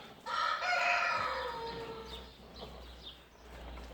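A rooster crows once, close and clear, followed by a few softer clucks from nearby hens over a low steady hum.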